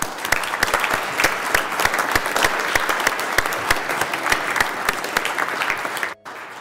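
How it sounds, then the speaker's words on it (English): Loud, sustained applause fills a state Senate chamber during a floor session, dense crowded clapping for several seconds before cutting off abruptly. "So please acknowledge them with your applause."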